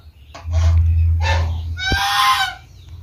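Muscovy ducks on a poultry farm give several harsh honking, hissing calls in short bursts, one louder and higher call toward the end, close by with little other sound.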